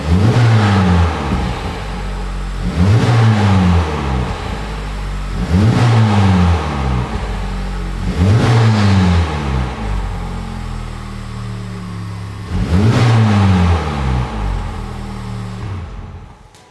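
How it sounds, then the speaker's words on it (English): A 2023 Honda Civic Type R FL5 engine revs up sharply five times in a row to roughly 4,000 RPM, each burst climbing then dropping back to a steady idle, loud and close. "I'm gonna fire it up again for you guys, and let's give it a couple revs."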